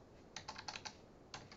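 Keys on a computer keyboard are struck in a quick burst of about five clicks, then a pause and two more, close and fairly quiet with no talking.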